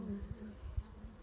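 Low, soft buzzing of honeybees in a winter hive in December after oxalic acid treatment, a close, steady hum with small pulsing swells and no voices.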